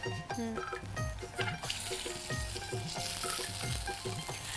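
Spiced food fries and sizzles in a pot while a spoon stirs and turns it, with steady crackling and rhythmic scraping knocks, close and moderately loud.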